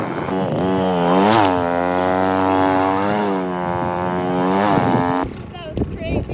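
A Rotax Max 125 two-stroke go-kart engine screams at high revs for about five seconds, its pitch rising and falling as it works through turns, then cuts to quieter outdoor sounds with light activity at the end.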